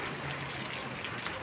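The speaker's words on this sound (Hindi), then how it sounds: "देखिए दोस्तों, बारिश हो रही है हमारे यहाँ बहुत तेज़" Heavy rain pouring steadily outdoors during a monsoon downpour, a dense continuous hiss of falling drops at constant loudness with no voices.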